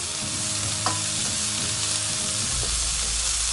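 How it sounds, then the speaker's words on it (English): Sweet corn frying in a pan for a braised squirrel with broad beans dish, a steady close hiss of sizzling fat with a brief stir partway through, no voices. "we're going to go in with our sweet corn. So I'm going to give this a fry off"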